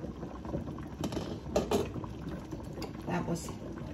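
A pot of sinigang, a tamarind-based soup, bubbles and simmers at a steady, soft level, with a few clinks and a faint voice in the background.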